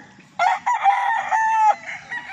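A Sweater fighting rooster gives one clear crow lasting over a second, loud and close, with faint background noise before and after.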